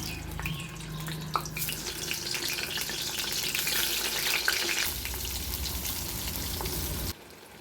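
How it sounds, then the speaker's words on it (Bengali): Large pieces of eggplant, coated and added one by one, fry in hot oil with a loud, constant sizzle and a few light clinks of stirring. The sound cuts off abruptly near the end. "দিয়ে বেগুনগুলো ভাজা করে নেব এক এক করে"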